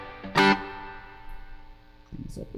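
An electric guitar through a UA spring reverb pedal, a single bright struck chord that rings out and decays with a splashy, lingering tail, followed by a softer note near the end.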